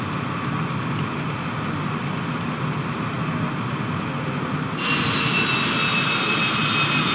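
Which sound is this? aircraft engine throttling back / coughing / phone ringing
aircraft engine throttling back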